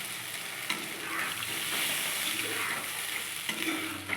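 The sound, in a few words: water added to spiced curry in the pan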